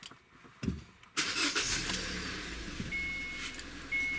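A 2014 Kia Cerato 2.0 engine cranks after a brief click, catches with a sharp burst, then settles into a steady close idle with a faint whine. No one speaks.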